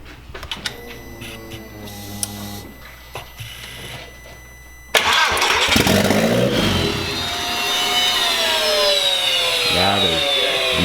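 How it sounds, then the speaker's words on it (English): A Mk4 VW GTI engine fitted with a big GT28RS turbo fires up for the first time: quiet clicks and priming whirs, then a sudden loud catch at about five seconds into a rough, roaring idle with rising whine. "First startup, let's see if it blows up."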